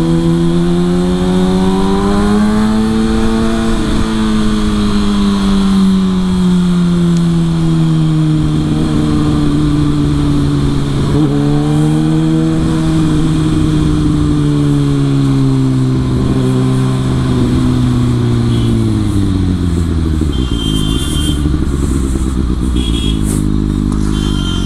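Kawasaki Ninja ZX6R sport motorcycle on a test ride, its engine loud and close with a steady drone that rises and falls through gear changes as the revs climb and drop, under strong wind rush.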